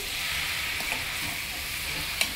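A spiced potato fry with garam masala stirred in a hot pan, a steady bright sizzle with soft scraping of the spoon and a small clink near the end.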